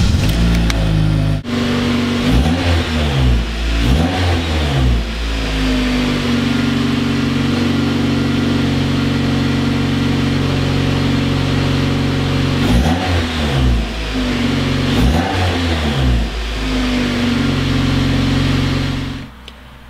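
A car freshly flashed with a KTuner ECU tune idles and is repeatedly revved, several quick rising engine sweeps up close, then a long steady hold at raised revs, more blips and a cut-off, with no talking.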